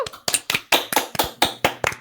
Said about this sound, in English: No, round of applause.